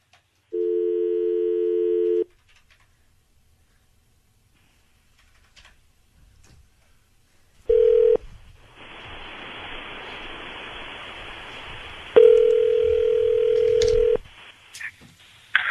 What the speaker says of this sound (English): dialing him up now